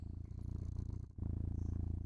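A cat named Kitty purrs steadily and close up, a low rhythmic rumble of repeated breaths that pauses briefly in the middle and then resumes at the same even pace.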